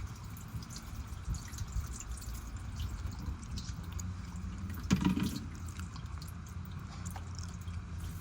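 Engine oil draining out of a car into a pan, a faint, steady trickle under a low background rumble, with a brief louder splash midway through.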